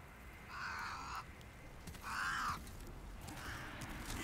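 Crows in the video game Demon's Souls on PS5 give three harsh, drawn-out caws at a moderate distance over a steady ambient hiss.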